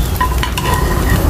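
A turkey egg fries in a pan with a steady loud sizzle and crackle, with faint scraping as it is stirred.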